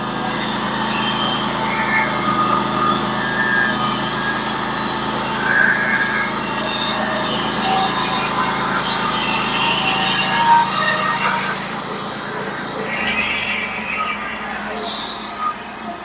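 Saw cutting through a log, a loud continuous grinding whine with shifting pitch and squeals, steady for the full length with brief fluctuations, close up and dominating the scene.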